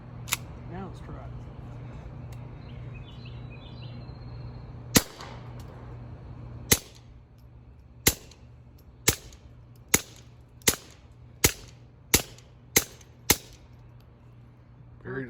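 A suppressed Walther P22 .22LR pistol in digital camo fires about ten sharp, clean shots at a range, the first few spaced out and the rest in a steady, fairly rapid string, with a low background hum.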